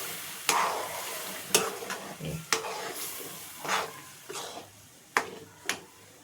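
Masala frying and being stirred in a pan, with a steady sizzle broken by several sharp scrapes and clanks of the spoon against the metal, close and fairly loud.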